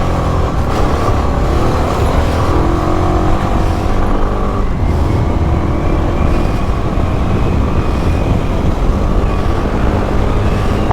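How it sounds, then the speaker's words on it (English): A 1984 Honda XL600R dual-sport motorcycle does a burnout near mud, its single-cylinder engine roaring steadily and loud while the rear wheel spins, sustained without a break. "You flick this throttle, you just start spinning the rear."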